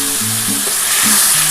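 Onion and spice masala for a rohu fish kalia fries in a pan, a loud, close, dense sizzle with brief scraping strokes of a spatula stirring through it.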